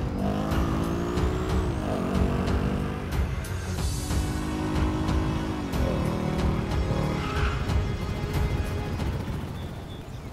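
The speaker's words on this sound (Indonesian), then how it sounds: "Kapten Sultan pun langsung pergi ke lokasi dengan naik motor" Motorbike ride in GTA: a continuous game engine drone with shifting revs and pitch sweeps, tire squeal accents, steady and close with no talk.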